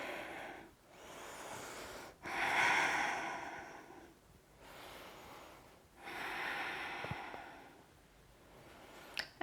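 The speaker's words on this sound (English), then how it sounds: "Breathing with that stretch." Slow, deep breaths during a yoga pigeon pose stretch, each long inhale or exhale lasting a few seconds in a quiet room, with airy nasal rushes alternating with pauses.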